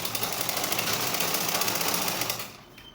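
A sewing machine runs steadily while top-stitching the folded neckline of a baby frock. Its fast, even whir is loud and continuous, then stops abruptly near the end.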